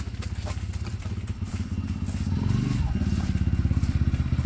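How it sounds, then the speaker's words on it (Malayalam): A motorcycle engine runs steadily with a low, pulsing putter that grows slightly louder midway, as if drawing nearer, with faint clatter over the top. "ഇവിടെ ബൈക്കിന്റെ സൗണ്ട് കേൾക്കുന്നില്ലേ? വരുന്നുണ്ടെന്ന് തോന്നുന്നു."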